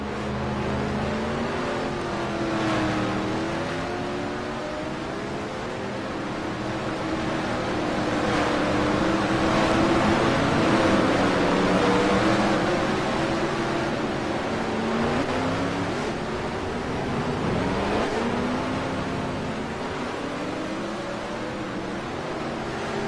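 Race cars from a racing video game livestream roar continuously, engines revving and shifting in a steady, loud drone with rising and falling pitch sweeps, no voices heard.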